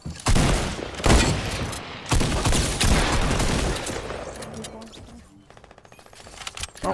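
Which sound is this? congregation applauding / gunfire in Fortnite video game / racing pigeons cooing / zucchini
gunfire in Fortnite video game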